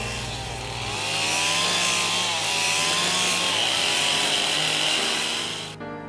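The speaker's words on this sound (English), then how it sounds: "Brushing with a chainsaw is to reduce high spots on the intended flat surface and generally improve the alignment of the work." A chainsaw runs steadily at high revs while its bar is brushed across a log to level the surface for cabin building. The engine snarl is loud and close and continuous, then cuts off abruptly near the end.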